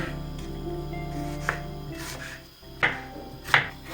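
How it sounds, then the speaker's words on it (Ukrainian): Onions being sliced into half rings on a board, a handful of sharp knife chops landing irregularly near the end, close and clear above a steady low hum. "а зараз буду різати цибульку півкільцями"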